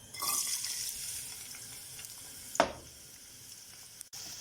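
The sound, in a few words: onions sautéing in pan for kabsa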